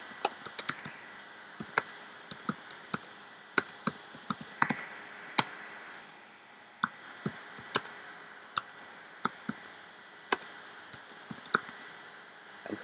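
Keys on a computer keyboard are tapped as keywords are entered, with sparse, irregular clicks and short bursts spread over a quiet, faint background; no voices.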